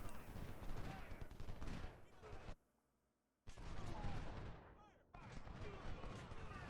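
Gunfire rattles through a Civil War video game battle during a siege, dense crackling volleys of musket fire that are loud and continuous, breaking off into a brief near silence before resuming.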